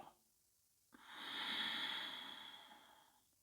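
Slow, steady breath during a calm stretching exercise, a faint short inhale followed by a long, airy exhale that swells and then fades, close and alone with no talk.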